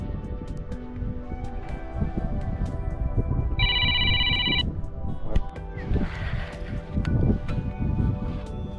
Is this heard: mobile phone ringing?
yes